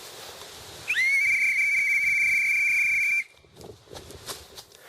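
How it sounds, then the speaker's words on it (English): A single loud, shrill whistle blast held for about two seconds as a bear warning outdoors, followed by quiet rustling background noise. "Hey Flip, why don't you demonstrate the whistle for us?"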